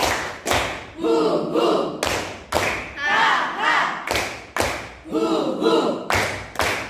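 A classroom of children performs the tepuk diam clapping game, sharp unison claps landing in a steady rhythmic pattern with chanted voices between, ending in a short laugh.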